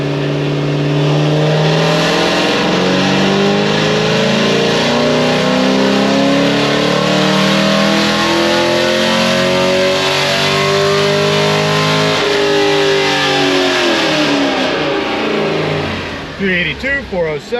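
A bolt-on Camaro with an LSA supercharger revs hard on a dyno, the engine note climbing steadily through a long, loud pull before dropping off abruptly at the end.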